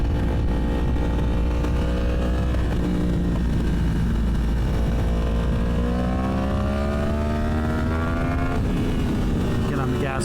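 A car driven on an open road climbs through its gears, its engine note rising steadily as it accelerates, loud and close with steady road noise and cabin rumble throughout.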